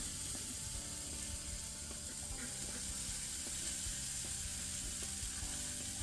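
Chuck roll steak sizzles steadily on a hot grill at medium heat, a continuous crackling hiss with faint clicks and low background hum, no talk.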